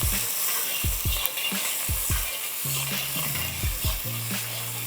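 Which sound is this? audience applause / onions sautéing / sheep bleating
onions sautéing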